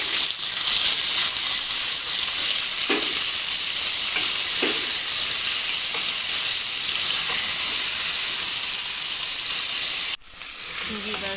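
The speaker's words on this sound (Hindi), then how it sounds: "अब हम इसमें चिकन ऐड करेंगे और इसे 4 से 5 मिनट अच्छे से भूनेंगे" Chicken keema fries in a pan with onions, a steady loud sizzle and hiss running throughout, broken by occasional scrapes of stirring and a sudden drop in level near the end.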